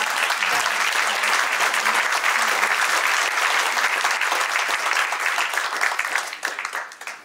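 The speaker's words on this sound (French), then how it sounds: "je vous demande d'applaudir une nouvelle fois." An audience at a philosophy lecture event in Tarbes applauds, giving dense, sustained clapping from many hands in a hall. It holds steady for several seconds, then thins and fades at the end.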